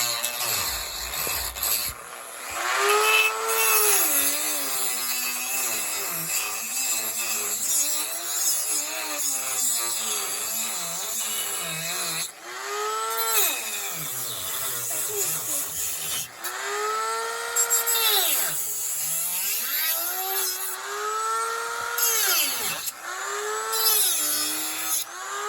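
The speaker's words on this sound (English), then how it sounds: "She gets a little scared of the Dremel sometimes" Dremel rotary tool cutting into a pinewood derby car block, a loud high whine that rises and dips in pitch as the bit bites the wood, running almost continuously with brief pauses.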